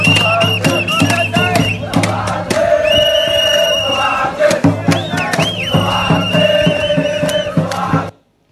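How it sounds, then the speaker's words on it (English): Crowd of protesters in Sudan's revolution cheering and chanting in unison, a loud, dense mass of voices with rhythmic shouted calls, sustained throughout before cutting off abruptly at the end. "This is happy protesters cheering and chanting, and they were saying, "Good morning, good morning.""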